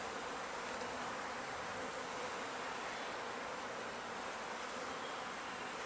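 Honeybees buzzing around hive frames, a dense, continuous swarm hum filling the whole stretch at an even, moderate level.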